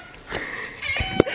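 A house cat gives a short, close meow in a quiet indoor room, with a faint voice-like sound just before it.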